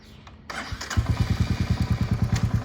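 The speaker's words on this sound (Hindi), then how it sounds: "ये मैंने गियर में डाल दी बाइक।" A Royal Enfield Bullet motorcycle, a single-cylinder engine, starts up and settles into a loud, steady, rhythmic thump as it is clicked into gear, heard close up with no talking.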